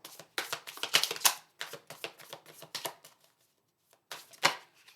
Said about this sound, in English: And 1 more shuffle.